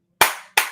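Two sharp, loud hand claps in quick succession, close and dry, separated by a short silence.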